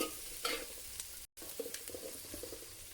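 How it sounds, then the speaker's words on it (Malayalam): Chopped tomatoes tossed into a hot pan and sautéed for kothu parotta, a steady close sizzle with scraping stirs and light clinks, broken by a short dropout midway. "അപ്പോൾ ഞാനിവിടെ 2 തക്കാളി ചേർക്കുന്നുണ്ട്."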